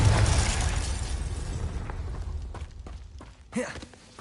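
Confringo fire spell blast in Hogwarts Legacy, a loud broadband explosive rush fading into rumble, with a second short burst near the end.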